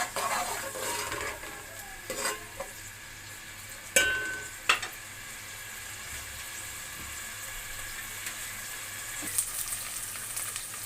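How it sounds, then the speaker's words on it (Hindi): Onions fry in ghee in a pan, a soft steady sizzle broken by occasional scraping stirs and a few sharp metallic spoon taps, close and with no talk. "ये हमारा प्याज ऐसा ऐसा बुनाई हो रहा है।"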